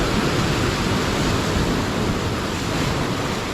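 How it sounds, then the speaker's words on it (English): Ocean waves crashing against a rock edge on a Bali beach, a loud continuous roar of churning surf and spray with no letup. "when the waves hit the edge of the rock here, it's super cool"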